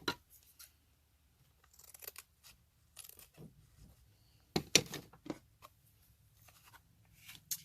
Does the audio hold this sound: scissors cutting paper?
yes